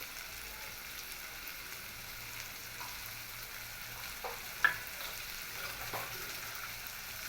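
A spoon mixes chilli powder, garam masala and salt into Kolhapuri veg sandwich filling, giving faint soft scraping and stirring with an occasional light clink against the bowl, quiet and without speech.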